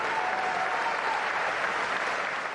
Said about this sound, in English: They say when they clap at the beginning, it doesn't matter much.